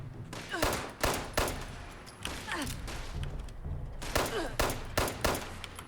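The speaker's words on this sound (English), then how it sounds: "Stop shooting me." Bursts of rapid gunfire in the Fallout 76 video game, several sharp volleys spaced a second or so apart, fairly quiet and mixed with faint game sounds, with no one talking.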